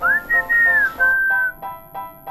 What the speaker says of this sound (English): we can whistle.